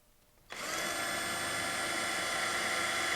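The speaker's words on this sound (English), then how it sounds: "you can hold the cleat in place and drill your second hole." After a brief quiet moment, a power drill whirs to life and runs at a steady high-pitched whine, loud and close, drilling a hole to mount a cleat on a kayak.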